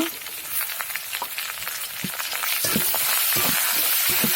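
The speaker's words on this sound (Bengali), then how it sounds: "মাছগুলো আমি কয়েক মিনিট ভেজে নিব।" Fish pieces fry in a pan, a close, steady sizzle that grows denser and louder toward the end, with scattered pops and a few light utensil clicks.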